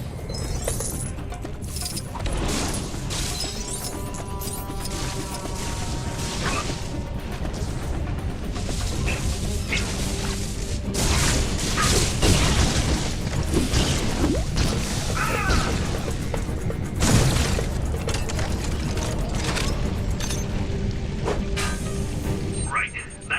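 Ceiling hatch being smashed in the LEGO Marvel Superheroes 2 video game: dense crashing, clinking and shattering game effects over a steady music and effects bed, with louder bursts throughout.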